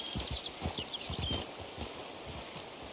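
Horse hooves clip-clop steadily in Red Dead Redemption 2, a quick regular beat of close, fairly loud hits with no voices.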